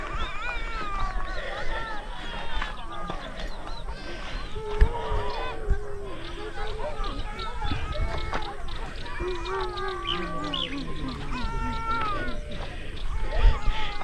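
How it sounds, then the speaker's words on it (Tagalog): Birds chirp and call repeatedly outdoors, their bright trills mixed with people talking nearby. "Ririnig nyo yung huni ng mga ibon"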